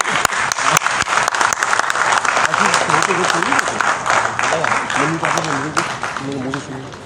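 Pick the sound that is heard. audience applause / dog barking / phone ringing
audience applause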